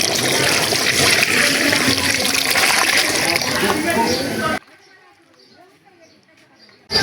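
Four litres of water gush into a pot of braised beef and potatoes, a loud steady pour for several seconds that cuts off abruptly, leaving a quiet room.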